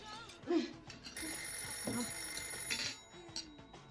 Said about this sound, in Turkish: O zil sesi değil o telefon.